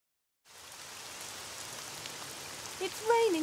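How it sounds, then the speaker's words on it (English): Steady rain patters after a moment of silence, a soft continuous hiss of drops on surfaces, with a brief high voice-like squeal near the end. "It's raining too much."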